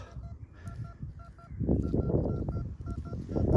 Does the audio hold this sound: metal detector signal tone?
yes